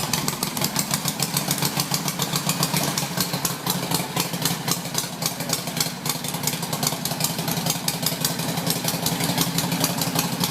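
An old Harley-Davidson Ironhead Sportster motorcycle idles close by, its engine giving a loud, rapid, lumpy pulsing rhythm that stays steady throughout with no talking.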